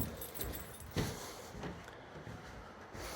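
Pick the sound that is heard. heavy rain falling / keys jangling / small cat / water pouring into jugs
keys jangling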